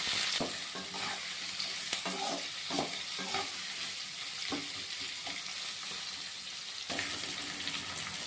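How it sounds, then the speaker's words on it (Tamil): Onions and green chilies sautéing in a pan, a steady broadband sizzle with repeated scraping stirs of a spatula against the pan at close range, no voices. "வெங்காயம், பச்சை மிளகா ரெண்டுத்தையும் சேர்த்து நல்லா வதக்கலாம்."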